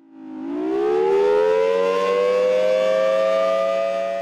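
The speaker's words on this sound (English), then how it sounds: "We don't run the siren on a regular basis." A civil defense siren at the Titan Missile Museum, a former nuclear missile site, winds up from a low tone to a loud, sustained wail that holds steady with little wavering, with no other sounds around it.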